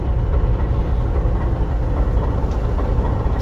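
Steady low rumble and drone from inside CSX locomotive 7876 pushing a loaded corn train at night, a continuous heavy engine and rail noise with no clear breaks, moderately loud throughout.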